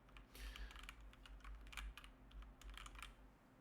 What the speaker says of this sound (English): Enough with the keyboard.